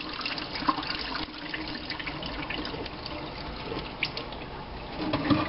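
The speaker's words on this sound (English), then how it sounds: "I'm just going to very gently pour the extra water out." Cooled Kool-Aid dye water used for dyeing wool yarn is poured gently from a pot into a sink, making a steady, soft splashing flow that runs throughout with small splashes on top.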